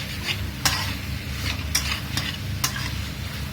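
Mangalorean pork curry with vinegar cooking in a pan, a soft sizzle broken by several sharp spoon scrapes and clinks as it is stirred, fairly quiet and without voices.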